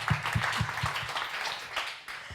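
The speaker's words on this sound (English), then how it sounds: "I think that deserves an applause." A small conference audience at a cultural policy meeting claps briefly, a few distinct close claps at first that thin into a looser, fading patter.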